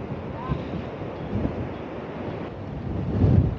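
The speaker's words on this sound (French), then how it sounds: "Et même dans le port, il y a des vagues. Alors pour vous dire que le vent il souffle." Wind buffets the microphone over a steady wash of sea waves at a small harbour in Tarifa, with a gust swelling louder near the end.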